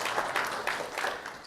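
Audience applause after a conference talk on 5G network slicing and OpenStack: a brief, moderately quiet burst of scattered clapping in a room, steady for about a second and a half.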